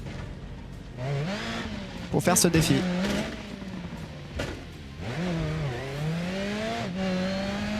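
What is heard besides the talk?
car driving in BeamNG.drive video game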